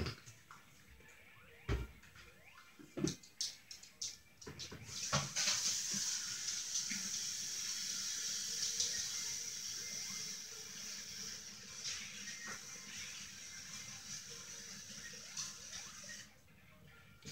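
Rushing, splashing water runs steadily in a Sonic video game level. A few sharp clicks come early, then a continuous wash follows and fades out near the end, fairly quiet.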